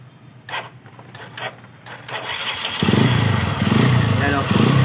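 A motorcycle engine with a suspected ignition coil fault starts up and revs, rising from sputtering to a loud, steady buzzing idle, with someone speaking over it early on.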